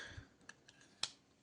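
Clicks from a Black Field Titan tactical knife, a massive budget knife heavily worn from war use, with a few soft scattered clicks and one sharper click near the end, faint and with no speech.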